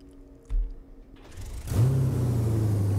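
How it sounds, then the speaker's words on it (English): In BeamNG.drive, a loud truck engine cranks and fires up after a single dull thump, settling into a steady, deep droning idle that stays strong to the end. "It is a very loud truck."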